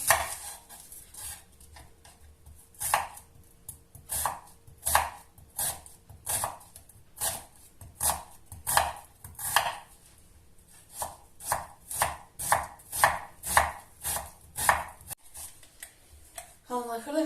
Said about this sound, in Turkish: soğanı xırda-xırda doğrayıram